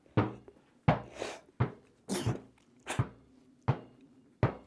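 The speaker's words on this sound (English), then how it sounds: "The only sound we hear on the porch here is the sound of the ball hitting the ground." A ball thuds repeatedly on a hard porch floor, roughly seven dull bounces at an uneven pace, close and fairly soft.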